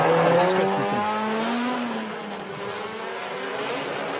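Race cars launch side by side from the start line at the ROC Nations Cup Mexico 2019 semi-final heat, engines roaring loudly with tire squeal, then revving fading somewhat as they pull away.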